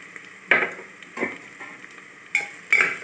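A spatula stirs tomato sautéing with chili, coriander and cinnamon powder in a hot pan, giving a soft continuous sizzle broken by four or five sharp scraping strokes at an uneven pace, close and clear, with no talk.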